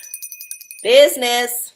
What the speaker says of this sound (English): And then now I'm going to ring the bell.